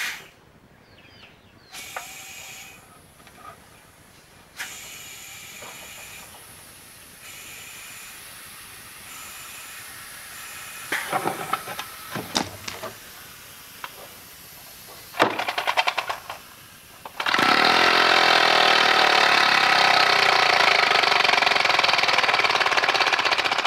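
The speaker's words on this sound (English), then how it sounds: "let's measure the RPM of this engine. And for the RPM test, I'm only gonna be testing it at 40 PSI." A homemade compressed-air engine running at 40 PSI gives a continuous airy hiss with rapid chuffing that builds up, then settles into a loud, steady, rushing roar for the final stretch.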